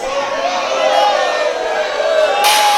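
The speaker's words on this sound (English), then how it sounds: "Here crowd saying, let them fight." A wrestling crowd chants at a live show, a loud, steady mass of voices with some cheering near the end.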